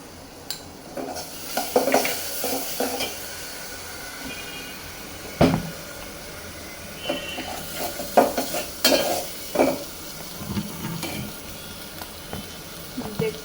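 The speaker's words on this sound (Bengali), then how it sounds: "এখন দেব একটু লবণ দিয়ে কষাই" Potatoes frying with salt in a pan while being stirred, giving a steady sizzle broken by scraping strokes and clanks of a utensil on metal, with faint talk now and then.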